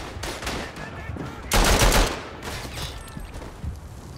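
Machine gun fire in the First World War shooter Verdun: repeated rattling bursts, one especially loud and close, amid ongoing battle noise, with brief talk in the mix.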